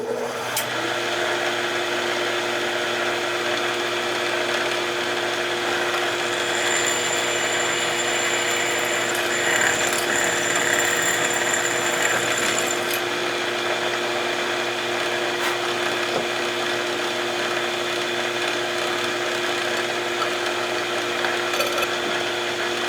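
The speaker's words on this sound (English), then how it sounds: "you don't need to watch me drill holes" A drill press bores holes in a part clamped in a vise, giving a steady, loud motor whine with a faint high squeal from the cutting that runs continuously for the whole stretch.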